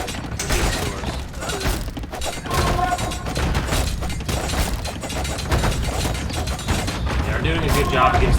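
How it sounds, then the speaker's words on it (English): Conquistadors shoot at villagers in the video game Age of Empires, producing rapid, overlapping bursts of gunfire, thuds and crashes that continue throughout at moderate loudness. "So once the villagers pop out, I can shoot them with the conquistadors."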